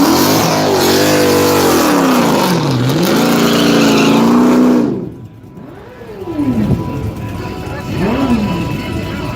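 A cammed Hemi engine in a no-prep small-tire drag racing car idles loudly with a lumpy, choppy rhythm, then blips up in two or three sharp revs after a brief dip, close to the microphone.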